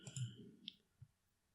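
A computer mouse gives a few faint, sharp clicks in quick succession while working in Autodesk Inventor, followed by a single click a moment later.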